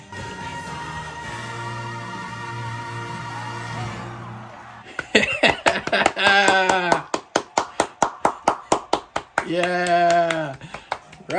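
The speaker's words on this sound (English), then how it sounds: "Round of applause!" Steady, rhythmic hand clapping for a round of applause follows a few seconds of music, with excited voices shouting over the claps.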